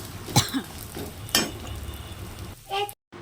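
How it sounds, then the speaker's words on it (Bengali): Lentil dumplings (bori) fry in hot mustard oil, a soft sizzle beneath a few sharp clinks and scrapes of a utensil against the pan, close by, ending in abrupt silence. "এবার আমি ভেজে দিব ডালের বড়িগুলো"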